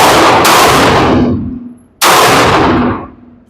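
Two loud, close .22LR gunshots at an outdoor range, each a sharp crack followed by a long decaying echo, spaced about one and a half seconds apart, with no voices.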